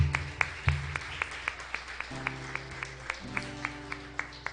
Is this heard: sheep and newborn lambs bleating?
no